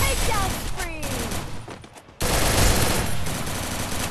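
Bursts of gunfire in Garena Free Fire, loud, close machine-gun fire from an MP40 or M82B that drops out briefly, then resumes in a dense rapid stream, with no talking.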